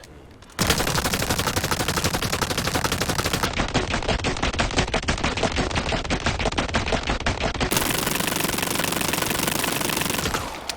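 A fully upgraded weapon fires in the Resident Evil 4 Remake video game: loud, rapid, unbroken automatic gunfire that runs for about ten seconds with no pauses and no voices.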